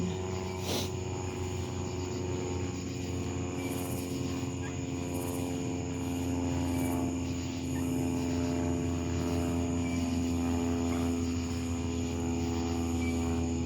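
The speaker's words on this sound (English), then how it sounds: "the freaking helicopter, here we go. Or whatever, so you can hear it." A steady droning helicopter engine with a chopping rotor tone overhead holds throughout, fairly loud and constant, with no talking.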